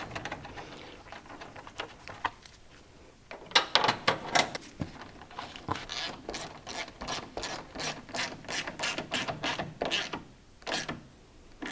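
A ratchet tightens headlight assembly bolts on a 2007-2014 Cadillac Escalade. A few scattered clicks open it, then rapid, close runs of ratcheting follow in steady bursts with short gaps.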